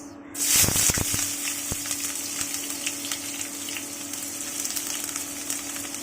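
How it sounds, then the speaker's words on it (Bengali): Sliced onions hit hot oil in a pan, bursting into a loud sizzle before settling into a steady, close crackle of frying that runs on alone without talk. "পেঁয়াজটাকেও হালকা গোল্ডেন ব্রাউন করে ফ্রাই করব"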